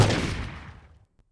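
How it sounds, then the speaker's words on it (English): A single loud video game gunshot effect with a sharp crack and a booming tail that decays over about a second, standing alone. "a gunshot for more punch"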